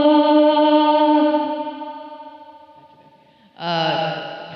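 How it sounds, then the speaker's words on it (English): A very long, dark reverb mode on an Old Blood Noise Endeavors MAW vocal effects pedal, sustaining a smeared, echoing tone that slowly decays before a fresh swell blooms back up near the end. "This last mode is a very long and dark reverb."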